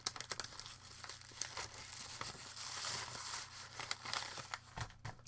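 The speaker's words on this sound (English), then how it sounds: "I'll get it back in her envelope so that I know what number she is" A greeting card slides back into its envelope, giving close, continuous paper crinkling and rustling with a few sharper tearing-like scrapes, with no talking.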